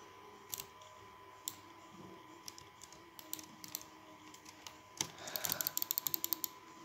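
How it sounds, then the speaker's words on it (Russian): Fast clicking during a Minecraft match on a VimeWorld server: scattered sharp clicks at first, then a dense rapid burst of clicks toward the end, fairly faint with no talk. "Давай, быстро кликать."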